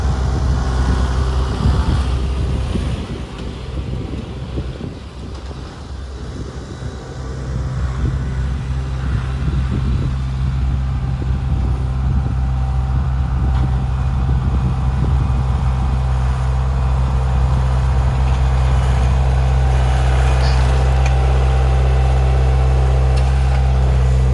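A Kubota L4802 tractor engine drones steadily nearby while grading with a land plane, a low, constant mechanical rumble that dips briefly and then holds at an even level.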